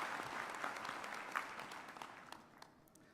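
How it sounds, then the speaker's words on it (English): Graduation ceremony audience clapping in a hall, a soft, distant round of applause that stays fairly even before gradually thinning out toward the end. "a big round of applause for"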